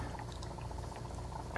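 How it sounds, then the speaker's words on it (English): A pipette squirting brine shrimp into the water of an upside down jellyfish tank gives a soft, continuous bubbling gurgle, close and faint. "send all of the brine shrimp out into the water around the jellyfish"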